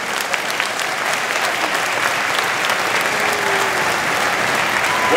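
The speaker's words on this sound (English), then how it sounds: "Go ahead and clap for your parents." A school auditorium audience at a middle school honor band concert gives a loud, sustained round of applause for the students' parents, dense and unbroken throughout.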